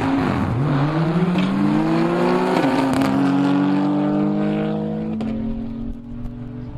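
Quarter-mile drag race at Brilon with a BMW X3 against an Audi RS6: loud engine roar climbs through rising gear pulls with shift breaks, then fades slightly as the cars move away.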